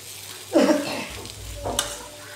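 Vegetable bhaji fries in a pan beside a bottle gourd curry, with two distinct stirring scrapes against a soft, low sizzle in between.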